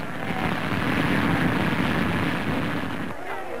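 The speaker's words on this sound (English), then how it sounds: "19 hours later, the Dutch plane arrives to gain second place." A Dutch propeller airliner arrives during the 1934 air race, its engines a loud, continuous broadband roar that drones steadily throughout and then drops away slightly near the end.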